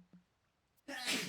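A single sharp sneeze bursts out after a near-silent stretch with faint low hum, loud and close, trailing into a brief breathy gust.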